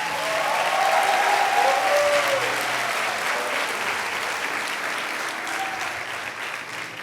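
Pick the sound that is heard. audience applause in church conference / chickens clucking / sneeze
audience applause in church conference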